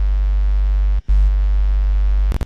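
A sustained synth sub bass from an electronic producer's workshop, with distortion layered on top, holds a steady loud low drone, cuts out briefly near the middle, then resumes before a short choppy burst at the end.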